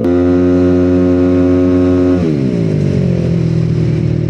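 A loud, souped-up motorcycle engine holds a steady high rev, then drops and shifts to a rougher, lower idle-like growl, close by and with no talk over it.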